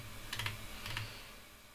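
Fingers type on a computer keyboard in two quick, faint clusters of keystrokes over a quiet room hiss.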